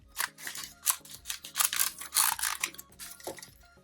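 Plastic parts of a Masterpiece MP-02 Soundwave transforming figure click, snap and clack in quick irregular bursts close to the mic, about a dozen sharp clicks over a few seconds, with no talking.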